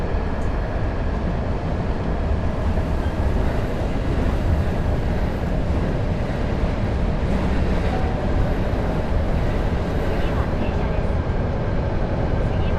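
A diesel train in a driving video game is braking, heard as a steady loud rumbling drone of engine and rolling wheels with faint hiss, continuous throughout with no other sounds standing out.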